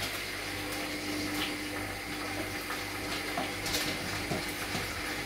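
Water from washed rice pours out steadily as it is drained while preparing buttered corn rice pilaf, a continuous close splashing flow lasting throughout with no talk.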